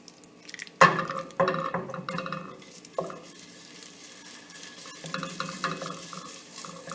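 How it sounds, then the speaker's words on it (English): Seafood is dropped into melted butter in a pan that already holds lobster shells. It gives a sharp sizzle burst, then crackling that settles into a softer fry, with a few spatula clatters and stirring scrapes. "now we're going to enter the seafood into the butter"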